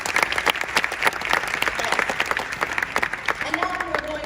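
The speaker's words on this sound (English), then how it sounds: "How about a big round of applause?" Audience applause at a Cirque du Soleil preview presentation at Walt Disney World: a crowd clapping in a sustained burst of sharp hand claps, with a voice speaking over the tail end.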